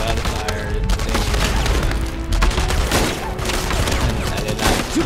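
Heavy gunfire rings out in the World War II shooter game Enemy Front, with dense overlapping rifle shots, bursts and explosive booms filling the whole stretch, loud and nearly constant.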